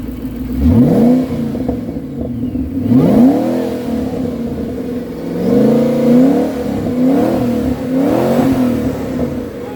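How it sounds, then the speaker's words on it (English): A warm car engine is revved several times in quick bursts, each blip rising and falling in pitch over a steady idle, close and loud with no talk. "why don't you go ahead and give me a couple revs"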